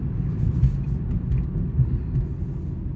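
A car drives along a road, heard from inside as a steady low engine and tire rumble, moderately loud and continuous with no talking.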